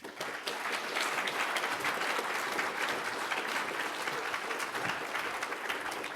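A lecture audience at a secularism conference applauds to welcome a speaker, a steady, even wash of many hands clapping that carries on for the full length without pause.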